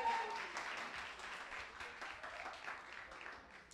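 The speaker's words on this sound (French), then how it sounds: "On applaudit, s'il vous plaît." Audience applause at a Haitian quiz show final, a continuous wash of many hands clapping at moderate, fairly distant level, with a faint voice briefly at the start.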